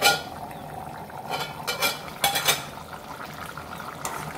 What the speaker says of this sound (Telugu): మన పప్పు అయితే ఉడకడం స్టార్ట్ అయిపోయింది ఫ్రెండ్స్